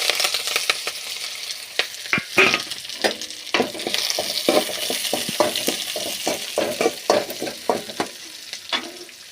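Mustard seeds, onion and curry leaves fry in hot oil with a loud, crackling sizzle, punctuated by frequent spatula scrapes and pops close by; no voices.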